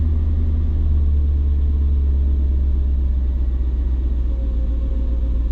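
A Mercedes C55 AMG with the M113 V8, running rich, holds a hanging idle: a loud, close, continuous deep rumble with a steady throb and no voices.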